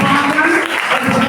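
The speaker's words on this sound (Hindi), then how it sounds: "वो बताएंगे आपकी तालियां।" An audience at a junior Hindi quiz semifinal breaks into applause, a brief burst of dense clapping mixed with crowd noise and some voices.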